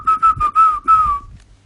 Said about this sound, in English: you can actually have a conversation whistling